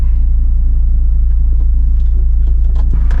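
A BMW E36 touring race car drives on the road, its engine a loud, steady low drone with a pulsing throb that stays constant throughout, with no talk.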